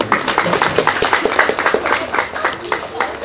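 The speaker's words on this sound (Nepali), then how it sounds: "उहाँको लागि ताली पड्काइदिनुहोस्" A stand-up comedy audience claps in a steady, moderate round of applause, many hands patting in quick uneven rhythm with a voice faintly underneath.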